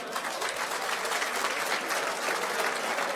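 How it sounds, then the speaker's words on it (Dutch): An audience at a Dutch regional sports and business awards show applauds two mayors, giving a steady, moderately distant wash of clapping with no break. "Een applaus graag voor deze 2 burgemeesters,"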